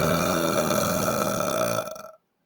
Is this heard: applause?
no